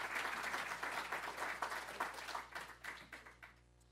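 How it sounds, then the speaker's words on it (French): Audience applause at a sacred art conference in France, lively clapping that thins out into scattered individual claps before fading. "vous pouvez l'applaudir."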